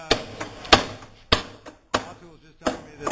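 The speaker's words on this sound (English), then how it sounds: "you must be happy to see the hammering of this" Barrels hammered by hand the traditional way at a cooperage, sharp loud strikes landing in an uneven rhythm about every half second, close by with no talk.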